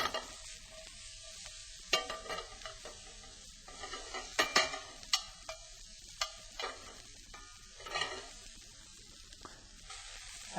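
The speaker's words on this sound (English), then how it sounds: "we're going to start by sauteing those" Mushrooms and wood ear mushrooms sauté in a pan, a soft steady sizzle broken by intermittent stirring scrapes and light utensil taps, fairly quiet and close.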